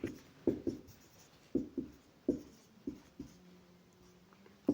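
Marker or chalk strokes on a classroom board during a math lesson on taxable income, a series of short scratchy strokes in uneven bursts with pauses between, close and fairly quiet, no voices.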